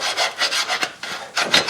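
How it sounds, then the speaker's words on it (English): Rhythmic scraping and sanding strokes rasp against corroded metal on the rear axle flange of a 2005 Chevrolet Suburban 1500 4x4, close and loud, in quick repeated passes with a brief pause midway. "Sanding it, I'm just kind of scraping it off."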